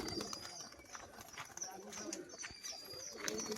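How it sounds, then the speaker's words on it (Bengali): Male and female fancy pigeons coo softly and intermittently against a busy background, with someone talking over them through the whole stretch. "এটা মাদা পায়রাটা, এটা নর পায়রাটা"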